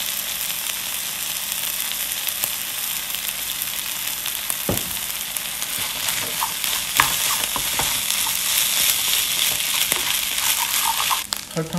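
Snow crab fried rice stir-frying in sesame oil, a steady dense sizzle with repeated scraping strokes of a utensil against the pan, close and continuous throughout without talk.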